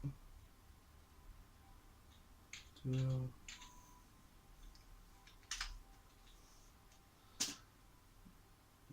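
Quiet, sporadic keyboard clicks with a few sharper key taps, sparse and close, over a low background hiss.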